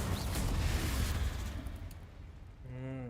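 A Confringo explosion spell goes off in Hogwarts Legacy, a rumbling blast that fades out, followed by a short tonal magical chime.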